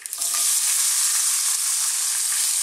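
Onions drop into hot oil for a vegan Indian dal and fry with a loud, bright, steady hiss that starts with a quick crackle and holds evenly throughout, close and without voices.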